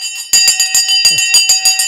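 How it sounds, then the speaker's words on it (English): A stock market opening bell rings loudly and rapidly with a bright, metallic clang repeated in quick bursts, heard right after a countdown with no talking over it. "the bell is gone"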